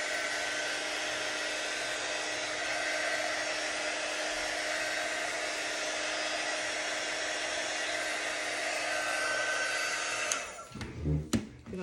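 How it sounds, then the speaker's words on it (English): A hair dryer blows steadily on a craft piece, a loud continuous whir that cuts off near the end, followed by brief handling noises. "Let me get this nice and dry here."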